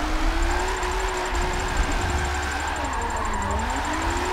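A Nissan 370Z's engine drones steadily in second gear during public street drifting, its pitch sliding up and down while it holds near and loud throughout, with no talking.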